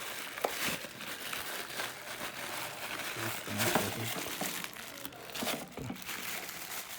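Packaging crinkles and rustles up close as an item from an office welcome kit is unwrapped, with a few sharper crackles and brief low thumps.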